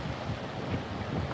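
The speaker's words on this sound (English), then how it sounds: "It's getting a little windy here" Steady wind buffeting an unshielded microphone outdoors near the SpaceX Starbase main gate in Boca Chica, Texas, a continuous low rumbling roar filling the short moment.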